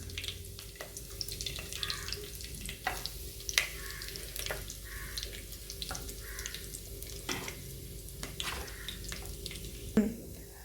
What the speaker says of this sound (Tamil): எண்ணெய் நல்லா காஞ்சதும் நம்ம வந்து வடகம் போடுறோம் தாளிக்கிறதுக்கு.